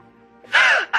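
A single sharp sneeze bursts out after a brief indrawn breath, loud and close, with a short trailing tail, from a man with a cold in an old radio drama.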